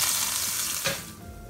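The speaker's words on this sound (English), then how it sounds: "So I'm gonna fry the rest of my fish" Steady sizzling and crackling of cod fillets frying in hot oil, close up, with a brief stir or scrape partway through and no talking.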